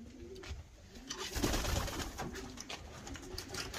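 Pigeons coo in a racing-pigeon loft, with several soft, throaty calls overlapping at close range over a steady background rustle.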